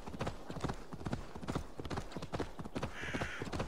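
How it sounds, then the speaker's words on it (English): Horse hooves gallop in the video game Assassin's Creed Valhalla, a rapid, even clip-clop of hoofbeats up close, with a faint tonal swell near the end. "I think I've been sprinting since I got on the horse."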